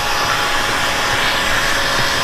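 A heat gun blows steadily and loudly while shrinking window tint film for installation, a continuous close rushing hot-air roar with no pauses.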